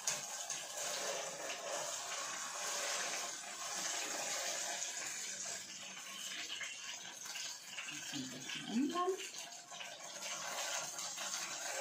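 Vegetable broth being poured over seitan in a kitchen, a faint continuous liquid trickle and splash, fairly quiet and uninterrupted, with a brief clink partway through.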